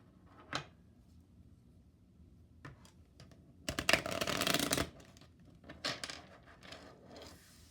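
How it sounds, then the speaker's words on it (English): Oracle cards being shuffled close by in a quiet room: scattered soft flicks and taps, then a brief, dense riffle of cards, followed by a few more light clicks. "I'm going to pull some additional cards here, some oracle cards on this person's headspace"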